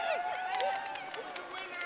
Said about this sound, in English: I hear cheering.